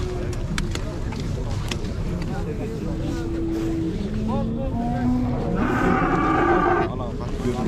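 Cattle mooing at the Atabek livestock bazaar in Merke, with long low calls rising over steady crowd noise and a constant engine hum, and people talking throughout.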